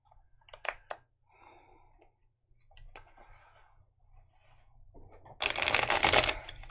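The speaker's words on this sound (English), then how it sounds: "let's shuffle and keep moving along here" Scattered soft clicks and taps of tarot cards being handled lead into a quick, loud riffling burst near the end, close and otherwise quiet.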